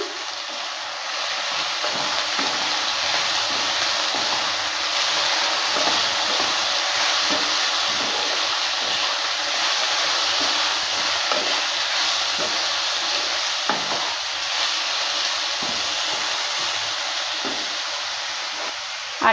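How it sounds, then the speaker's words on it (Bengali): Gima greens being stirred with chilli and cumin powder in a frying pan, giving a steady sizzle and scraping hiss throughout, close and fairly loud with no voices. "সব কিছু দেওয়ার পর ভালো করে নেড়ে নিচ্ছে"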